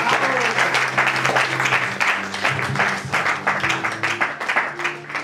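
Church congregation applauding during a French-language sermon, a steady wash of many hands clapping together, loud and close throughout, with some voices mixed into the crowd noise.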